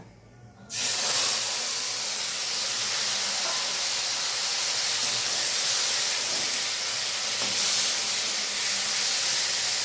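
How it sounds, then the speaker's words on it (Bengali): Chopped tomatoes hit a hot pan with a sudden burst of loud hissing sizzle, then fry steadily and close by in a dense, even spitting hiss, with no voices. "দেখো টমেটো ফ্রাই হচ্ছে।"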